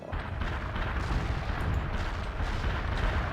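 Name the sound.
artillery barrage in video game World in Conflict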